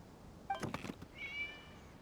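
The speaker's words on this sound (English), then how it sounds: "was just a cat" A cat meows once in the video game Genshin Impact, a short, fairly faint call with a higher drawn-out tone after a brief thump, alone with no talk.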